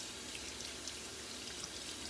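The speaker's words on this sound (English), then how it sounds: "Rinse off my hand here." Water runs steadily from a tap to rinse a hand, a faint, even hiss of flowing water with no talk.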